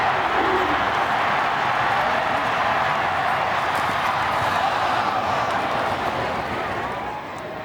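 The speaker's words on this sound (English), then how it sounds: "Listen to the crowd." A college football stadium crowd at New Mexico State versus Kentucky roars in a dense, sustained wash of cheering that swells and then fades slightly near the end, with no clear speech standing out.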